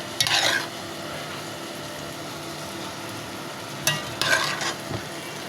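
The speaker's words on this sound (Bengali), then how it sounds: "এরপর যে আমি আমার সিদ্ধ করে রাখা ছোলাগুলো দিয়ে দিচ্ছি, আলু সহ।" Boiled potatoes and chickpeas tumble into a hot oiled pan for a chhola fry, giving two short bursts of sizzle and scraping separated by a steady low frying hiss.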